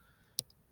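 A single crisp click of a calculator key being pressed, short and near, with a faint second tick just after, against near silence.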